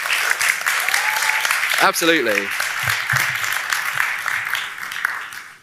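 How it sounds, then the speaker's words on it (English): An audience claps in a steady, continuous round of applause throughout, with someone speaking briefly over the clapping. "We could do a round of applause in here."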